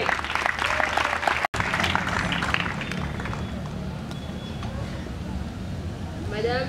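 Audience applause at a formal ceremony with a minister and ambassador present, a broad clapping wash that is strongest early and gradually thins out, with crowd murmur and scattered voices beneath it.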